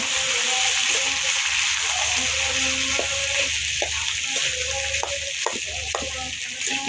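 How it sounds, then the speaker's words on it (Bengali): Onions and potatoes fry and sizzle in a pan while being stirred, giving a steady close hiss broken by repeated scraping strokes of the stirring spoon, with no voices. "এখন আলু দিয়ে দিবে। দেখুন লাড়া দিয়ে দিচ্ছে।"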